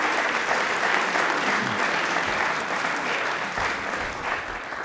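A studio audience at a televised quiz show gives loud, sustained applause, a thick continuous roar of many hands clapping that stays strong before easing slightly toward the end.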